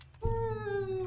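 A cat gives one close, drawn-out meow lasting about a second, loud and clear with a rising start that then holds steady.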